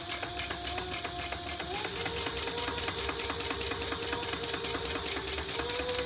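Sewing machine basting around the edge of a Pebble Mini Sling bag: a steady, rapid, even stitching rhythm runs without pause from start to end, close and clear, with no talking.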